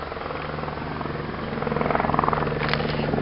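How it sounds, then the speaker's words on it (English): Helicopter flying overhead above a garden, a steady pulsing rotor drone that grows louder partway through, continuous and fairly near with no talk. "There's a helicopter up there."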